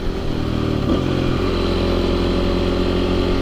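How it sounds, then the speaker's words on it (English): A 2008 Husqvarna SMR 510 supermoto motorcycle engine runs loud and close, a steady throbbing idle with a brief blip of revs early on and no talk. "I want to do a quick video with the five things I love about this bike"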